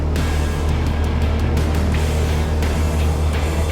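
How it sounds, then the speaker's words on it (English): A small airplane engine roars at full takeoff power near 2,300 RPM, a loud, steady, close drone with broadband rush and no pauses or talk. "Full takeoff power applied."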